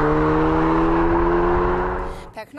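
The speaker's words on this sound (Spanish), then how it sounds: "El sonido del motor puede llegar a fascinar." An Audi S3 engine holds a steady, droning tone with strong low harmonics, close and loud, then fades away near the end as a brief burst of other sound cuts in.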